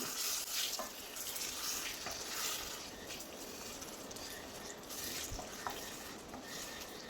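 Vinegar is stirred into a black raisin pickle in a pan, producing a faint, continuous hiss and sizzle with soft scraping strokes of the spoon, heard alone without talk.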